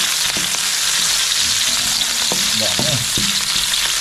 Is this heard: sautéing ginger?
yes